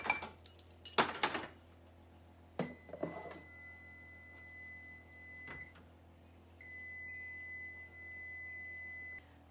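A kitchen timer buzzer sounds during bread baking, two sustained electronic tones each lasting a few seconds, after some clinks of dishes and utensils in a quiet kitchen.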